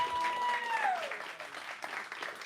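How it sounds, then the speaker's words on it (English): Crowd clapping at a live spoken-word poetry event, a dense continuous patter of hands with a brief sliding whistle-like tone early on, fading slightly toward the end. "And while you clapping, clap for my DJ."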